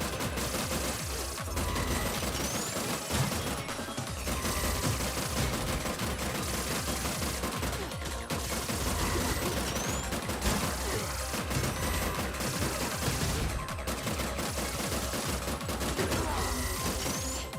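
Rapid, sustained gunfire from the side-scrolling video game Terminator 2D: No Fate, with dense bursts and volleys running almost unbroken and loud over the game's background soundtrack.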